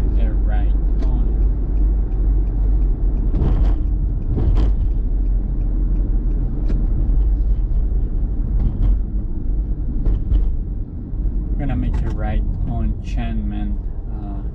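A car drives through Anaheim, California, heading away from Disneyland, its low engine and road rumble heard steadily from inside the cabin, with someone talking over it throughout and occasional brief knocks.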